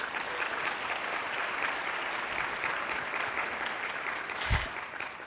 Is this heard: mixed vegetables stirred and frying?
no